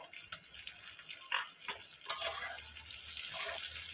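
Capsicum with a pinch of salt fries in a pan until lightly browned, a soft continuous sizzle with a few brief crackles and stirring scrapes, close and quiet, no talking.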